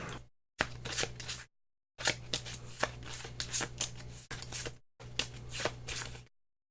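A deck of cards is shuffled during a solo tabletop session of the board game Concordia. Three close, crisp riffle bursts are separated by brief silences, with no talking.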